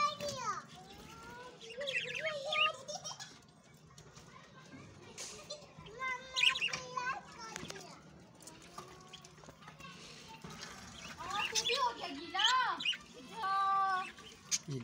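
Newly hatched chicks chirp in high, repeated peeps scattered through the scene, close by, mixed with children's voices and people talking nearby.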